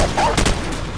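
Heavy, dense gunfire in the video game Call of Duty 4: Modern Warfare, a loud continuous barrage of overlapping shots with a couple of sharper cracks near the middle, filling the whole second.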